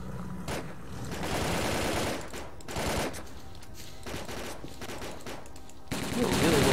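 Bursts of rapid automatic gunfire in the shooter game Stalker: Call of Pripyat, several loud volleys with short gaps between them, close and harsh, with some talk mixed in.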